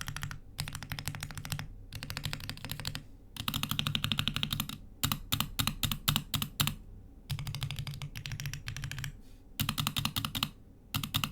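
Bursts of fast typing on a Monsgeek mechanical keyboard fitted with Ice Cream Purple linear switches, close and crisp in a low-pitched register, with short pauses between runs of clacks.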